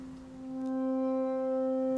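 A chord played on a reversed wine glass sample instrument swells in, with sustained glassy tones stacking and growing louder, alone and quite close.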